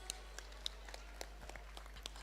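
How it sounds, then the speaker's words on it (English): An audience at a Model UN closing ceremony claps in scattered, fairly sparse applause, faint and distant in a large room, with individual claps standing out. "Can we have a huge round of applause?"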